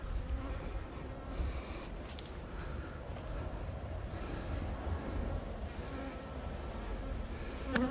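Honey bees buzzing steadily around a pollen feeder, a dense, continuous drone of many insects heard up close, with a faint breath of wind and no voices.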